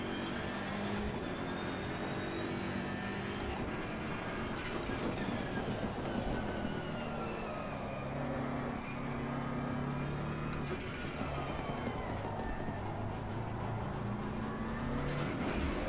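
A BMW GT3 race car engine in Assetto Corsa Competizione at Paul Ricard roars under hard throttle, a loud continuous drone with rising and falling revs through gear changes.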